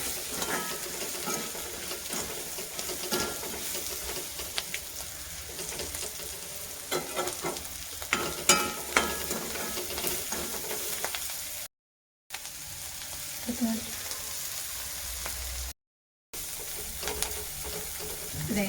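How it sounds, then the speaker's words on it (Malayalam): Curry leaves frying in coconut oil with dried prawns, stirred in the pan: a loud, continuous sizzle with scraping stir strokes nearby, briefly cut out twice, no voices. "ഇച്ചിരി വെളിച്ചെണ്ണ കൂടെ ഇട്ട് കൊടുക്കണം ആവശ്യത്തിന് കറിവേപ്പിലയും കൂടെ ഇട്ട് കൊടുക്കാം ഇളക്കി കൊടുക്കാം"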